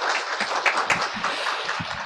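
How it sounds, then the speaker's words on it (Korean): An audience at a Busan public forum applauds a city council member being introduced, a moderate patter of scattered claps from a modest crowd that holds briefly at middling loudness with no talk over it. "박수 부탁드리겠습니다"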